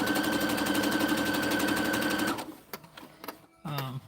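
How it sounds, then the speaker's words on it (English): A sewing machine stitches a fabric Christmas stocking with a loud, fast, steady whirring hum for about two seconds, then stops, followed by a few faint clicks and handling noises. "sew this all down"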